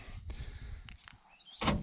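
Trig Point canopy doors on a 2021 Toyota Hilux SR5 Extra Cab lock and unlock by key fob, giving a few soft clunks and a short whirring actuator burst, with a louder clack near the end, close by.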